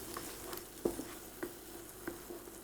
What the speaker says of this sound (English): the onion's browning off nicely. It's kind of going a nice caramelly colour